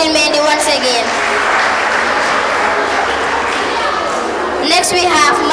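Audience applause for a child contestant at a kids' podium contest in Gambia, a dense loud sustained wash of clapping from a crowd filling the whole stretch, with a voice briefly cutting in near the end.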